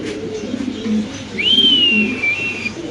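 A large fancy pigeon gives a short, soft, low coo near the microphone, followed by a clear, sustained high whistle.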